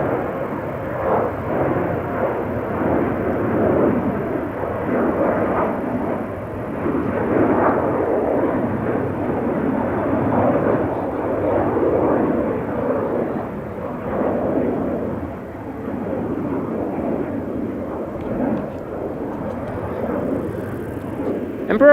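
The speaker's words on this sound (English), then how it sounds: "Transavia just took off" Transavia airliner taking off from Schiphol's center runway toward Barcelona, a broad, rumbling engine roar holding steady and fairly loud throughout, with no voices.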